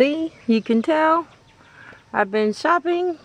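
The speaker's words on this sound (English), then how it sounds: "and the roosters crowing." Roosters crow and cluck in loud bursts while someone talks over them, close by.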